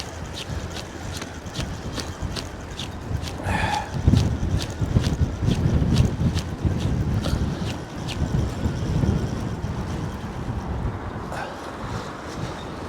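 Strong wind buffets across Poole Harbour in stormy weather, a loud rumbling roar of gusts swelling and easing, with faint rhythmic ticking clicks running through it.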